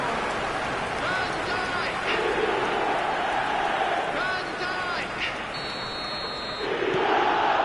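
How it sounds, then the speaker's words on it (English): Stadium crowd in the eFootball video game on PS5 chanting and roaring as a steady, dense wash of many voices, swelling toward the end, with occasional faint tonal beeps. "The crowd are calling for this to be put to bed."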